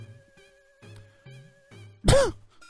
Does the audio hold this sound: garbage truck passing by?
no